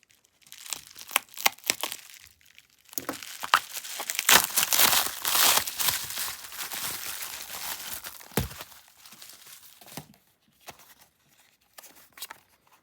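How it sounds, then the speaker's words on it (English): Bubble wrap packaging for a Victorinox Alox Rambler is pulled open and crumpled up close, with loud crinkling and tearing bursts that trail off into quieter rustles. "And then we have this bubbly wrap. So let's just open this."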